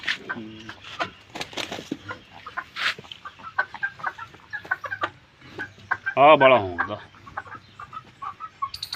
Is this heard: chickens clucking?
yes